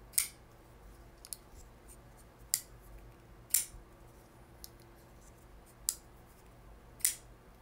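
A Finch Knife Co. 1929 folding knife snapping open and shut on its flipper: six sharp, crisp clicks spaced a second or so apart, close and clear against a quiet background.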